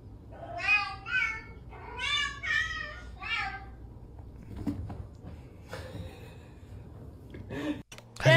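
A cat meows repeatedly in a series of drawn-out, wavering calls, close and fairly clear, followed by quieter rustling and a few short bumps.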